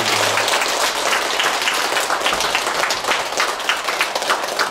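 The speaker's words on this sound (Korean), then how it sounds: "감사의 큰 박수 부탁드리겠습니다" Sustained applause from a large standing crowd at a Buddhist New Year dharma service, steady and dense with no break, filling the whole stretch.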